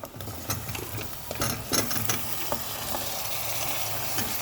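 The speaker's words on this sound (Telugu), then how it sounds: "లో ఫ్లేమ్ చేసుకొని బాగా ఫ్రై చేయండి." Cluster bean and potato curry frying in oil over a low flame, a continuous close sizzle broken by repeated scraping stirs and crackling bursts, no talking.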